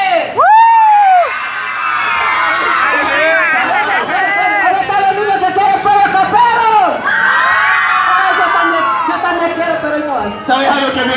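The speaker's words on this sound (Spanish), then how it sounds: "Les preguntaste quién quiere juguete y todo el mundo grita" A crowd of children at a Children's Day celebration shouting and cheering excitedly, loud overlapping whoops and high-pitched yells that swell and subside, close to the microphone, over general hubbub.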